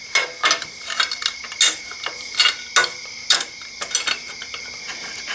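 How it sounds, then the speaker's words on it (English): Bolts are run up with a ratcheting tool while fitting a Camel ADV peg support brace onto a Honda Africa Twin CRF1000L motorcycle, giving close, irregular bursts of metallic clicking. "And we're going to bolt this up on here."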